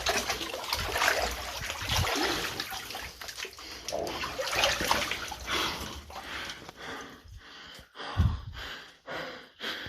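Water sloshes and splashes nearby in irregular bursts as someone sits in a flooded level of a disused West Cumbrian mine, with heavier movement early on and a few sharper splashes near the end; faint breathing sounds underneath.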